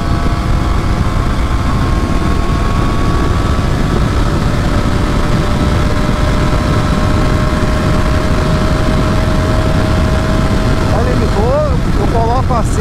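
A Triumph Tiger 900 GT Pro 2024 motorcycle holding limited top speed in fifth gear, its engine a loud continuous drone with a steady whine under heavy wind rush, pitch wobbling briefly near the end.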